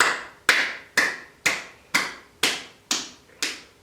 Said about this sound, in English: and then clap again